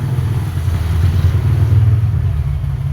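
A Honda XR200 motorcycle engine, freshly refreshed with its carburetor and exhaust refitted, idles and runs steadily with a loud, close, thumping single-cylinder beat and no talking over it.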